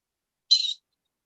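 A pet bird gives a single short, high whistled call, clear and close, lasting about a quarter second before silence.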